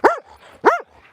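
Two sharp, loud barks from a dog close by outdoors in Scotland, part of a group of nine dogs, spaced about half a second apart with a faint whimpering tail after each.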